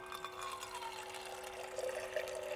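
Water runs steadily from a Dometic push-button tap on a portable water container at a bush campsite, a continuous close trickle and splash with no talk.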